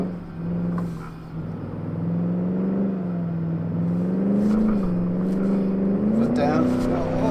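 A 1956 Gasmea race car in an Automation-built racing game accelerates hard on a twisty time-trial circuit, its engine droning steadily and rising in pitch while someone talks over it.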